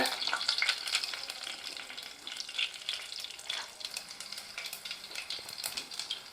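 Cumin seeds and broken green chillies splutter in hot oil for sambar, a continuous crackling sizzle with tiny popping bursts, close and moderately quiet, with no voices.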